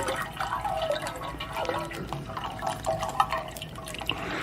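Liquid ice cream base poured from a container into another vessel, a continuous close splashing, trickling pour with small drips, no talking.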